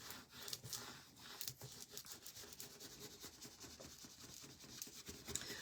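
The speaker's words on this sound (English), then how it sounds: "So you just rub and rub and rub and rub and rub." An Easter image transfer is rubbed onto paper in quick, repeated scratchy strokes, soft and close with an even back-and-forth rhythm.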